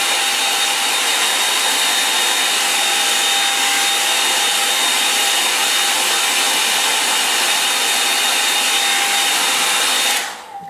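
A hair dryer blows steadily and loudly on a watercolour painting for about ten seconds with no talk, then cuts off abruptly near the end.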